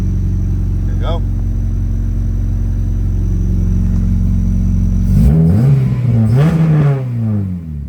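A 2002–2006 Acura RSX with a tucked engine harness cranks and fires on first start, its steady engine drone rising into a few revs near and loud, with brief talk over it.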